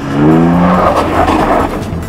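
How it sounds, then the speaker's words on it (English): A car drifts round a test track at Ladoux, tires squealing in a sustained screech over a loud engine note that rises and falls, fairly close and without talk. "My challenge was to drift the car for one complete lap."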